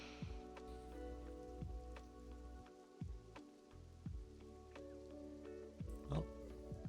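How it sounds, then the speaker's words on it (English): Steady rain falls in a roleplay video game, a soft continuous patter with scattered drips over a low hum. It stays faint and even throughout. "It's raining."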